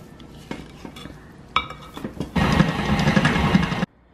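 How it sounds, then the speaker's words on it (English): A utensil scrapes and clinks around the sides of a mixing bowl of snickerdoodle cookie dough: scattered taps and knocks, then a sustained, gritty scraping run that stops abruptly. "I'm just gonna clean down the sides a little bit"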